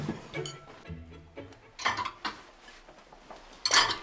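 Dinner plates and cutlery clattering as dishes are gathered from a table at a family meal, scattered clinks and scrapes in a quiet indoor room with no voices.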